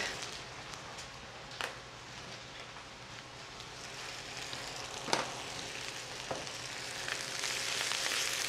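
Garlic dropped into a hot pan of pancetta sizzles with a steady, dense frying crackle, a few sharper pops and spits breaking through as it goes on.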